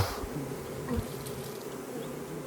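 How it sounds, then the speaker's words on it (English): Honeybees fan at the entrance of a swarm capture box, making a soft, continuous buzzing hum with light outdoor background noise. "There's over half a dozen bees fanning right now."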